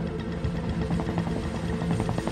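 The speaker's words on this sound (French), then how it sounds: "Lo senti l'hélicoptère?" Helicopter flying overhead in the high mountains near Chamonix during a gendarmerie mountain rescue, a loud, steady rotor chop with a rapid pulsing beat and no voices over it.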